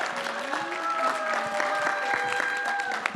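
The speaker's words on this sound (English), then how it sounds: "Let's give a round of applause for the panelists." An audience claps for the panelists at a voice-over actors' breakout session of a conference, a steady crowd applause with scattered claps, heard under a faint tonal hum and some murmuring voices in the room.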